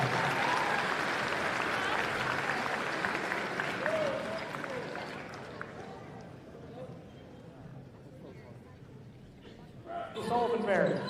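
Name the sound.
crowd applause for basketball players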